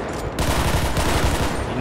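Rapid bursts of gunfire in GTA V rattle continuously, loud and close, a dense stream of shots with no pause.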